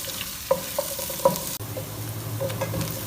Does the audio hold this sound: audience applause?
no